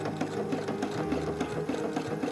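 A sewing machine runs a quarter-inch seam on small doll leggings, its needle clattering in a fast, even rhythm close by and without pause.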